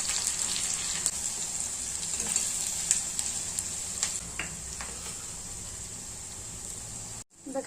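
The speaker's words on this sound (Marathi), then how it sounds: "कांदा टाकायचा," Onion frying in a pan for chole: a steady, close hiss of sizzling oil with occasional soft crackles and stirring scrapes, fairly quiet, then cut off near the end.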